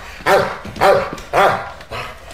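A drug-sniffing detection dog barks four times in a steady rhythm, loud and close, with no talk over the barks.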